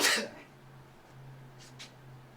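A single sharp sneeze bursts out at the start, followed by quiet room tone and a couple of faint hissy breaths.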